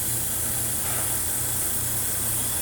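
Spray paint hisses steadily from a can onto the holes of a hockey mask prop, a continuous close airy spray with no pauses.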